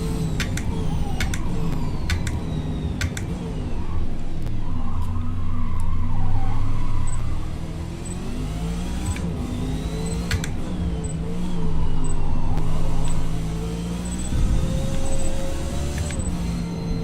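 Porsche race car with a tall rear wing driving in Forza Motorsport, a steady loud engine drone with shifting pitch and tire squeal through corners, continuous throughout, with no talking.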